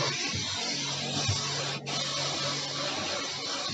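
Karcher pressure washer spraying the roof of a van, a steady loud hissing roar close by, with a brief dip partway through and no talking.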